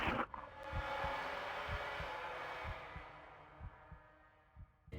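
The protagonist's heartbeat in the horror game Hellnight thumps low and heavy in a steady rhythm, around eight beats, beneath a loud rushing ambient drone that swells and then thins.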